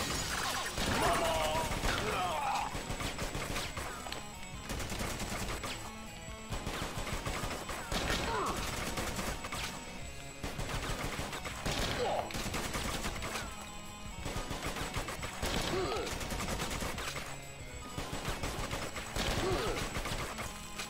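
Rapid gunfire bursts in the video game Not a Hero, repeated volleys of shots and crashes running throughout, loud and close, with a voice talking over parts of it.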